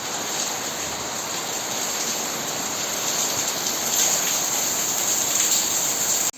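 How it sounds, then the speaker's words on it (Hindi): Heavy rain pours steadily as a dense, continuous hiss of drops on surfaces, loud and close, growing slightly stronger toward the end, with no voices. "कितना ज़ोर से बारिश आ गया"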